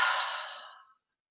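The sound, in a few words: deep breath exhaled during guided meditation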